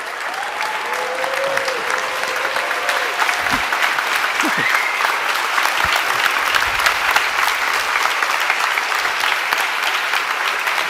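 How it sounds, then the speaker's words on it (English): Large audience applauding to welcome Hideo Kojima onto the stage at an NG16 Q&A event: dense, steady clapping that holds for the full stretch, with scattered whoops and cheers rising over it. "give a very warm round of applause to the legend himself, Mr. Hideo Kojima"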